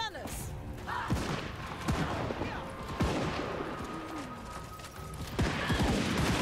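Crane gunner units in the Warhammer 3 video game's Cathay faction let off repeated sharp gunfire bursts in a dense volley, spaced about a second apart over battle noise. A voice talks over part of it.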